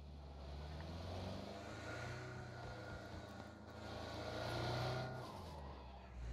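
A vehicle engine in PUBG, a fairly faint motor drone that rises and falls as it revs, steady throughout with no talking.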